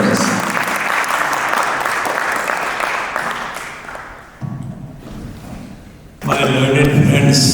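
Loud applause from an audience at a world peace delegation event on science and spirituality, sustained for several seconds, dipping briefly, then surging again near the end.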